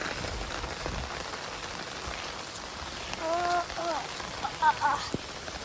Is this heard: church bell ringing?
no